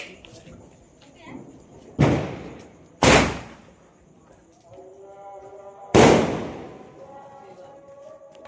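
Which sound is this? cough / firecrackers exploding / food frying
firecrackers exploding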